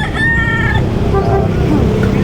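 A rooster crows loudly and close by at a pet market, a drawn-out harmonic call, followed by softer clucking against a noisy background.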